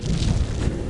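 A permanent buffs effect from the Arcanum video game plays as a short, dense, low rumbling whoosh, loud and muffled, lasting about a second with no speech.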